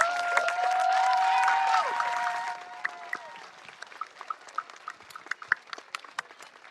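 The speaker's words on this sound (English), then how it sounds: "Have one more big round of applause for all our performers" Cheers and whistles rise from an audience at a school Veterans Day show after the performers finish, loud at first, then thinning into scattered individual claps that fade out.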